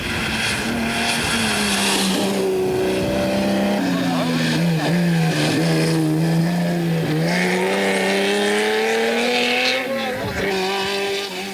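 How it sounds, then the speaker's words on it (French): Vintage race cars at speed on the 1993 Tour Auto rally, including an Alpine A110, with loud engines revving and shifting through gears, pitch rising and falling through corners, and faint tire squeal under narration. "Besson sur son Alpine A110 attaque chaque virage"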